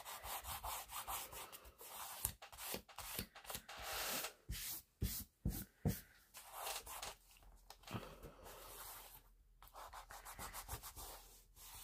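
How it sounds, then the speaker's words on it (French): Bone folder rubbed and pressed over glued paper while building a book structure, a close, quiet sequence of scratchy rubbing strokes in uneven bursts with short gaps, no voices. "avec mon plioir, j'appuie bien comme ça pour bien coller au ras de la première"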